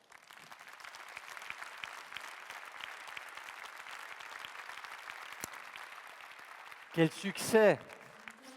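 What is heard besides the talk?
congress audience applauding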